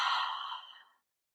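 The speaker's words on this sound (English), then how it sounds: "Big deep inhale and exhale." A single long, breathy exhale during a guided breathing practice, close and clear, fading out after about a second and followed by silence.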